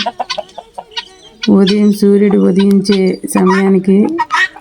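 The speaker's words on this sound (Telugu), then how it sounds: "మా చిన్నాన్న వాళ్ళు గిన్నె కోళ్ళు అంటారు వీటిని." Guinea fowl raised on a village farm give loud, harsh, rapid repeated calls close by, a clattering chorus that swells and continues for several seconds, with someone speaking briefly at the start.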